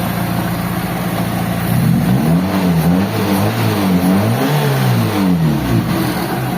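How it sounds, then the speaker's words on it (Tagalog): A car engine, repaired after it kept stalling whenever the gas pedal was released, runs loud and close at a steady idle, with smooth rises and falls in revs and no speech over it. "So kalmado na rin yung makina mga boss."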